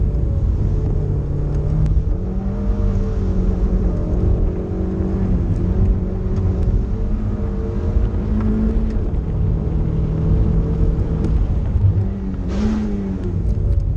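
A Mazda MX-5 engine revving hard on a 2023 hillclimb run at Wiscombe Park, its droning note climbing and dropping through gear changes, loud and steady throughout with no talk.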